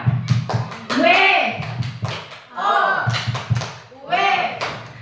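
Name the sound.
group doing the tepuk wow clapping chant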